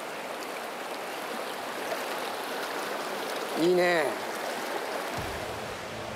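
Strong river rapids rush steadily on the Nagara River in the Gujo district during ayu fishing. A continuous broad roar of water plays throughout, and someone speaks a brief word near the middle.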